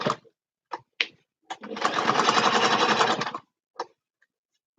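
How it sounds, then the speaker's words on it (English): A sewing machine stitches a small fabric bag in one steady run of about a second and a half, framed by a few sharp handling clicks before and after, close and clear. "I stitch all around and then I sort of take it down diagonal to make sure it's just one row"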